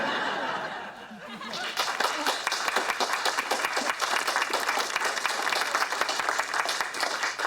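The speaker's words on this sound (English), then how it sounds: "I believe they were clapping for me" Studio audience applause and laughter in a sitcom, starting after a quiet moment and swelling into sustained, dense clapping with chuckles throughout.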